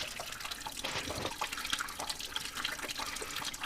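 Water splashing and trickling during a leak test on a Lotus Elan M, a faint continuous spattering flow with small drips.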